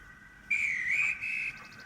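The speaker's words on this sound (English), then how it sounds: "Oh, that's my guard's whistle." A single shrill whistle blast, held about a second with a slight wavering pitch, then a shorter follow-up toot, fairly close.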